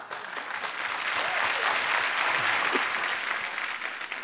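Studio audience applause rises to welcome Neetu Singh Kapoor onto a television comedy show stage, a dense, steady wash of clapping that holds loud and even throughout with no voices above it.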